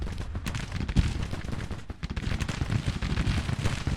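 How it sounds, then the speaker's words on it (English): Rapid battlefield gunfire crackles in Grand Tactician: The Civil War, dense volleys and scattered shots rolling continuously under a dull rumble without talk. "Stand up, face the enemies and shoot them."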